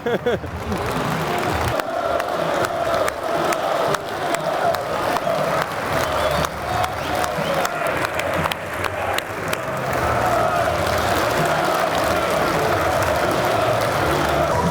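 Watford and Spurs football fans in a stadium crowd applaud, a loud, sustained wash of many overlapping handclaps with scattered cheers that fills the whole stretch and swells slightly toward the end.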